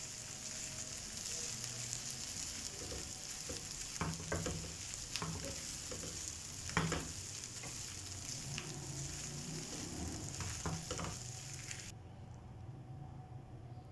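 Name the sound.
chicken cooking in pan for chicken pockets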